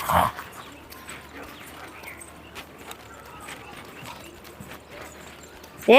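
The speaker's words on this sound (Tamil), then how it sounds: "வண்டி வருது பிடிச்சிக்கோ." Hooves clip-clop steadily on a road, a horse-drawn cart passing close by with faint street ambience and brief voices at the edges.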